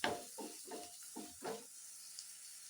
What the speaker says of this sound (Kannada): ಮಸಾಲೆ ಸ್ವಲ್ಪ ಎಲ್ಲ ಸ್ವಲ್ಪ ಫ್ರೈ ಆಗಲಿ ಎಣ್ಣೆಲಿ.